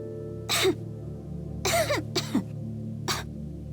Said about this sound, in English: she coughed 2 or 3 times in order to put the little prince in the wrong